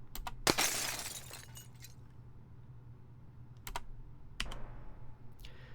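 A sharp crash of breaking glass for a vehicle's secondary explosion in a video game, bright and scattering, followed by a few faint clinks and small later impacts in a quiet room.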